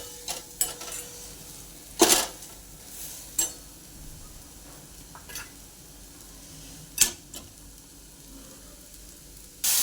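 A spoon scrapes and clinks against a pot of Bombay duck fish curry in a few sharp strokes while it sizzles softly underneath, with quiet pauses between stirs.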